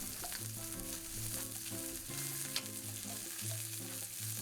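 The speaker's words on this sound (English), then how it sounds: "So I'm gonna add a little bit more olive oil and a little more garlic" Garlic sizzles in olive oil in a cast iron pan, a steady bright frying hiss under faint background music, with occasional stirring clicks and no speech.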